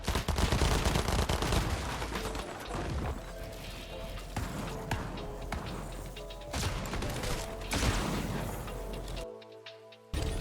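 Shotgun blasts and other gunfire in the Fortnite video game, loud and dense, with rapid overlapping shots and crashes running almost continuously, then a brief drop to near silence before a final burst.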